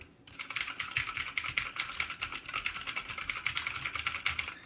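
Rapid, continuous typing on an ABKO K570 mechanical keyboard with blue switches, giving dense, close clicky keystrokes at a steady pace with no talking.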